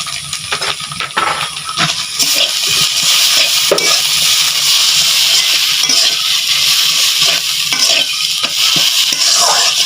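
Chopped onion and garlic frying in oil with a little salt, a spatula scraping and stirring against the pan in repeated clattering strokes over a constant loud sizzle, close up with no talk.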